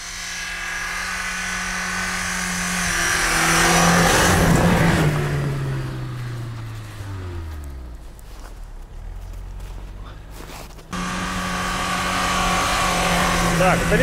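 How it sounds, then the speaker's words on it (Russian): Volkswagen Nivus drifting: the engine revs up and drops in sweeping pitch, tires scrubbing as the car slides, with people talking nearby and a sudden cut partway through before the engine drone resumes. "Дрифтуем на Нивус."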